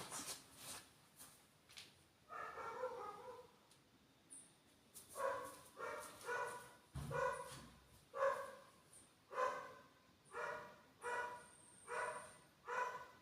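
A dog barks repeatedly at a moderate distance in a steady series of evenly spaced woofs, faint against a quiet background with no talk.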